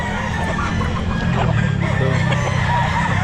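Roosters and fowl call and cluck at a busy pet market, including a bull stag, with dense overlapping bird sounds over a loud, steady crowd background.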